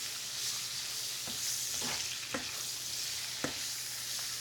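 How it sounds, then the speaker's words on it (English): Pork fried rice frying in a pan, a steady broadband sizzle with a few sharp spatula scrapes and clicks against the pan at moderate level, no talk. "I'm just going to fry that up."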